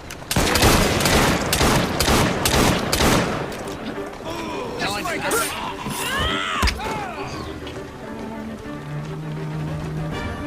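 Gunfire in Assassin's Creed Syndicate during a rainy street scene: a fast volley of loud close shots, then scattered crackling impacts. Shouted voices and game sounds follow.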